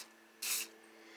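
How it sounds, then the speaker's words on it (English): A single short burst of Ozium aerosol air sanitizer sprayed inside a Honda car, a bright hiss lasting about a quarter second, close by against a quiet background. "Just spray it in the center of your vehicle like this."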